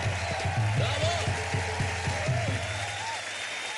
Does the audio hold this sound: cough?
no